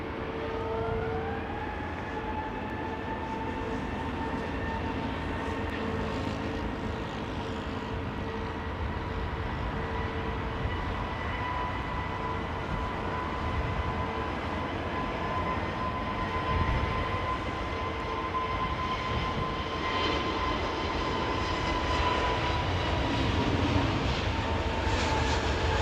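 GE jet engines on an aircraft at London Heathrow whir steadily, a sustained tonal whine with rising and gliding pitches over a constant broad roar, moderately distant and without talk.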